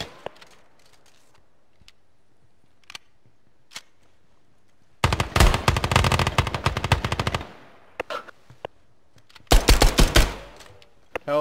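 Gunfire in the tactical shooter Ground Branch: scattered single shots, then two loud sustained bursts of rapid automatic fire around the middle and end, crisp and close with quiet gaps between.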